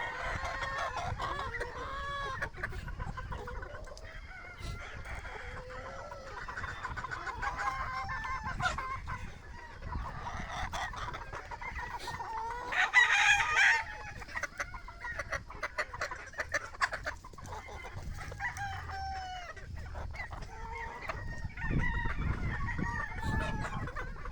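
Chickens cluck steadily throughout while gamefowl roosters crow repeatedly over the flock, with young stags joining in, a busy, continuous farmyard chorus with no talking.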